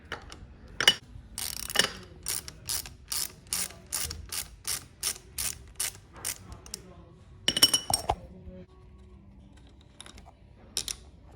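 A ratchet wrench clicks in quick bursts while undoing the brake caliper bolts on a Honda motorcycle during a fork seal job, with close metallic ratcheting runs, pauses and a few clunks.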